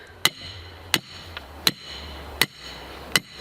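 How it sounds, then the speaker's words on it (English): A wooden stake is driven into the ground with a hammer while laying out batter boards for a garden shed, giving five loud, sharp blows spaced evenly about every three-quarters of a second over quiet background. "I'm going to go ahead and start driving a stake"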